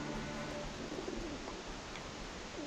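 Pigeons coo softly in a video game, Alice Madness Returns, a few low rolling calls over a steady ambient background with no talk.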